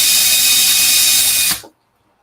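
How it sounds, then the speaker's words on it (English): A loud, high-pitched power drill with a dull bit whines steadily for about a second and a half, then stops abruptly into silence. "This drill bit is dull as shit."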